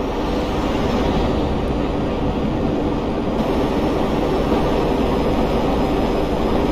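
A Hydra jet in GTA 5 roars steadily in flight, a dense, constant, loud jet-engine rush with a low rumble that holds for several seconds without letup.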